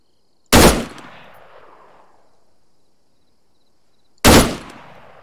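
Two sharp, loud shots from a machine gun in Arma 3 ring out about four seconds apart, each leaving a long fading echo in otherwise quiet surroundings.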